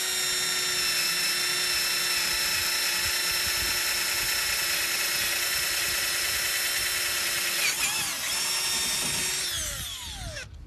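Black & Decker 20V Max lithium cordless drill running steadily under load, a loud continuous high whine held close for about eight seconds before the motor winds down and stops with a few rattling clicks.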